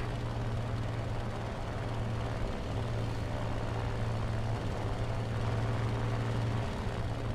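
P-47 fighter aircraft engines drone nearby in War Thunder, a continuous low propeller hum with a steady pitch that wavers slightly, accompanied by a broad wash of wind-like noise and no voices.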